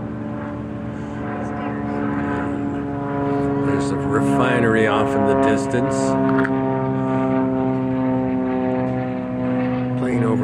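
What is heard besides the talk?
propeller airplane flying overhead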